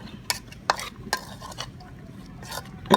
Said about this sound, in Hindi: अब इसको अच्छे तरीके से हम मिक्स कर लेंगे।